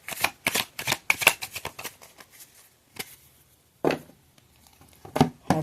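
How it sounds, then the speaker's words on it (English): Oracle card decks being shuffled and cards drawn, a rapid burst of papery riffles and flicks up close, then a few isolated card snaps separated by quiet pauses. "let's get one each of my specialty oracle decks. One card from each of these"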